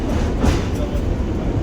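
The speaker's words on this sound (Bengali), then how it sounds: "তো এখন ট্রেন ঢুকে পড়েছে" A Lalgola train pulling into a station, a loud close continuous rumble of rolling wheels and carriages with no gaps.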